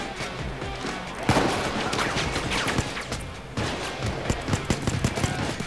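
Dense, overlapping gunfire from a Payday 2 heist shootout, with rapid bursts and sharp shots crackling continuously throughout, loud and close in the mix.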